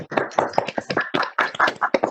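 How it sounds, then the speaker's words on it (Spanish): An audience applauds five panelists at a Nikkei young art salon discussion, with irregular close claps across the whole stretch, fairly loud, and no talk over them. "vamos a darle un aplauso pues a los 5"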